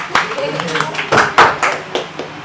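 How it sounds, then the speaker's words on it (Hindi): Students clapping in a classroom: a handful of scattered, uneven claps, fairly close and loud, spread over a couple of seconds amid room chatter. "तालियां"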